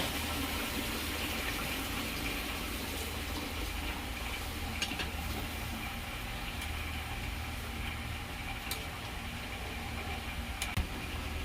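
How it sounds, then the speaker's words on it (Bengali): Water pours steadily into a pan of simmering soybean and potato curry, a continuous gushing wash with faint kitchen hum beneath, close and unbroken. "এবার আমি এই যে জলটা দিয়ে দেবো।"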